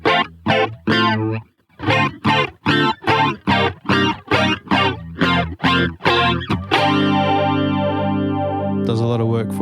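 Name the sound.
MXR Micro Flanger guitar effects pedal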